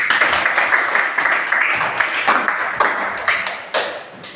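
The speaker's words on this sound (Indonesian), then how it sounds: "Dan silakan untuk kembali dan kita berikan tepuk tangan." Schoolchildren clap in a classroom after a group presentation, a busy patter of applause with a few sharp individual claps standing out as it gradually thins and fades.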